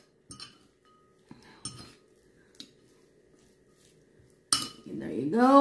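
A few separate clinks of cutlery against a dish come as Brussels sprouts are mixed, spaced well apart in a quiet room before a voice starts talking at the end.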